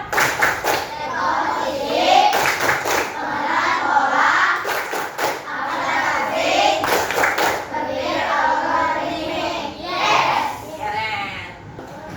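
A classroom of children claps a rhythmic chant in unison, with bursts of sharp hand claps recurring amid steady group voices that carry throughout.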